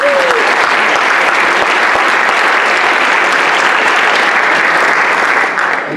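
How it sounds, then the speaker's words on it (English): Sustained audience applause fills the whole stretch at a party gathering, dense and loud with steady many-handed clapping, easing slightly at the very end. "Let's give him a round of applause"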